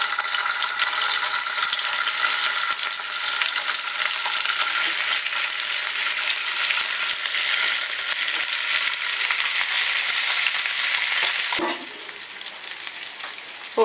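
Chicken pieces fry in hot oil in a pan for Arabic majboos, giving a loud, steady sizzle close by. A clatter near the end marks the pieces being turned, after which the frying continues more quietly.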